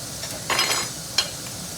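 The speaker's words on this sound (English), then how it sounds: "tomatoes and okra are cooking away back there" Tomatoes and okra sizzle in a pan, a soft steady hiss with a couple of brief louder flares of spattering, heard close and alone.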